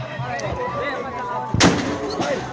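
Celebratory gunfire into the air at a Chhath ghat in Chapra, Bihar: one sharp loud crack midway through, followed by a fainter second report, over background crowd noise and talk.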